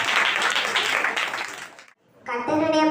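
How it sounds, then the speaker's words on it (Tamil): Audience at a Tamil Christmas debate event breaks into a burst of clapping that fills the room, then stops abruptly into a brief silence before a voice begins speaking. "கைதட்டுங்க."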